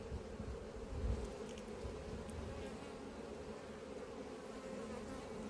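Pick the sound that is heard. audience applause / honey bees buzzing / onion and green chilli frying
honey bees buzzing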